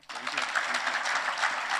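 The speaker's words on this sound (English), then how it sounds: "A lot of applause for you." Audience applause fills a conference hall at the 2023 Maisha Conference, a dense, steady wash of clapping that starts abruptly and carries on evenly throughout.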